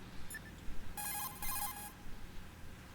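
A phone in the video game Metal Gear Solid 2 rings with a bright electronic trill, one short chirp followed by a longer ringing burst, clear over a quiet background.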